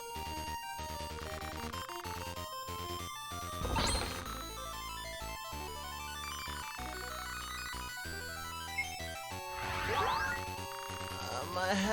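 Video game bell chimes ring out over layered electronic music, with two bright clanging bursts around the middle and near the end, loud against the steady score.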